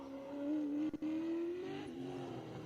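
A race car engine built by BS at a King of the Mountain event revs hard in a rising, droning howl, heard from a distance, with a brief dip in the middle before it climbs again.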